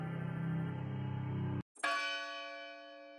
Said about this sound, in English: Ah, the church bells are ringing.